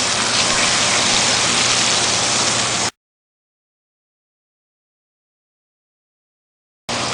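Chopped garlic stir-fries in hot oil, a loud, even hissing sizzle that cuts off abruptly into total silence and then returns just as suddenly.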